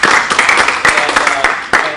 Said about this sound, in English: let's just give them a round of applause for that